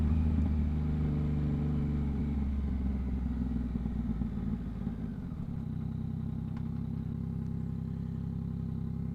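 Yamaha MT-09 motorcycle fitted with a Two Brothers exhaust being ridden, a steady loud engine rumble and drone throughout, shifting pitch midway as the revs change, with no talk.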